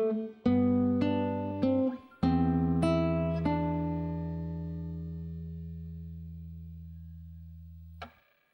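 Solo guitar playing the opening measure of Jesu, Joy of Man's Desiring: a handful of plucked notes over sustained bass notes, then a long ringing chord fading out, close and clean with no talking.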